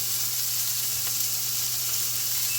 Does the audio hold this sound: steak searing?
yes